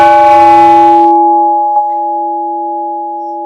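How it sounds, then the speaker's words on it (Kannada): A bell at the Elinje Sri Lakshmi Janardhana Mahaganapati temple in Mulki rings loudly. Its rich, buzzing tone fades into a long, pure humming resonance, and a faint tap sounds partway through the sustained ring. "ಗಮನಿಸ್ತಾ ಬರ್ಬೋದು, ಗಂಟೆಯ ನಾದವನ್ನು ಕೇಳಬಹುದು."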